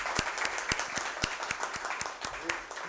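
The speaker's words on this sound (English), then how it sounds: "So a big round of applause for them." Applause at a hands-on ERCP training course ceremony, honouring endoscopy staff: a sparse crowd clapping with distinct individual claps standing out in an irregular rhythm, moderately close, fairly light overall.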